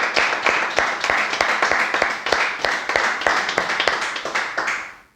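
An audience at Genius Institute in Lahore claps for a presenter taking the stage: steady, dense clapping from a room of people holding for about five seconds, then tapering off at the end.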